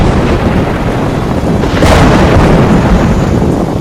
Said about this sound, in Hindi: लगता है तूफान आने वाला है, सब संभल के रहो।